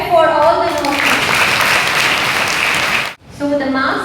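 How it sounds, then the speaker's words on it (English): School audience at a leadership selection event applauding the nominees: a dense burst of clapping that rises over a speaking voice, holds for about two seconds, then cuts off abruptly as talking resumes. "Clap for all the nominees."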